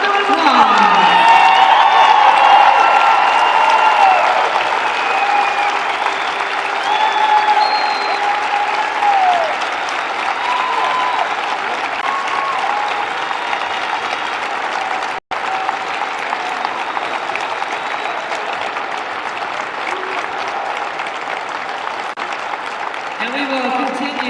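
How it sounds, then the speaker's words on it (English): Crowd applause and cheering in a gym as veterans are welcomed onto the court before the 2017 IHSA Class 3A girls volleyball championship game, loud sustained clapping with whoops and whistles throughout. "help us welcome your veterans onto the court with a round of applause."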